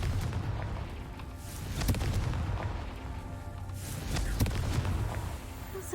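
Confringo fire blast spell cast in Hogwarts Legacy, heard as loud booming blasts around the two- and four-and-a-half-second marks over a continuous rumbling game soundscape.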